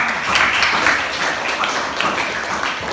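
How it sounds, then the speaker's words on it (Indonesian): A classroom audience claps for the students who gathered the data, producing a brisk, fairly loud patter of many hands that continues evenly for a few seconds. "Ya, tepuk tangan dong buat yang cari data."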